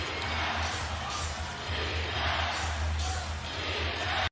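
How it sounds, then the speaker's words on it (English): An arena crowd at an NBA Christmas game roars and cheers in a dense, continuous wash of noise that swells in waves, loud and distant-sounding, with a deep low hum beneath. "you would think this was a playoff game with how the crowd's going crazy"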